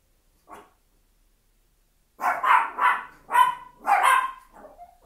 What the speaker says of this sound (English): Oh my gosh, dogs. What are you barking at?